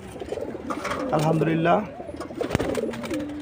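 Racing pigeons coo at their home loft after returning from a training toss. Soft, rolling coos come close by, and someone speaks briefly over them.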